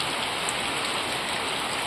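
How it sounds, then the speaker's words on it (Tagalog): Heavy rain pours down in a continuous, even rush of dense hiss and patter, close and steady throughout with no pauses or voices. "ang lakas ng ulan."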